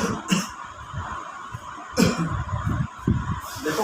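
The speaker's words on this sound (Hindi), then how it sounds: "देखो मेरे खांसी हो रही है" A person coughs in a few short bursts near the start, in the middle and toward the end, close and moderately loud against a quiet room.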